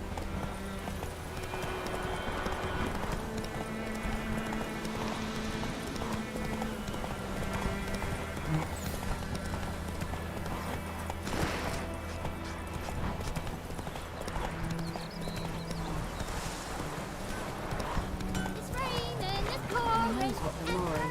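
Roach the horse gallops in The Witcher 3 with a steady, continuous rhythm of hoof clip-clops under game music and ambience, while characters talk over the hooves.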